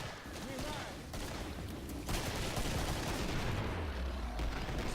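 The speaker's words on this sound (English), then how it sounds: "The AA-12 is good for dealing lots of damage quickly. Basically sort of like a automatic shotgun." An AA-12 automatic shotgun fires in the video game Killing Floor, loud rapid blasts running together into a dense, continuous roar of gunfire that swells toward the end.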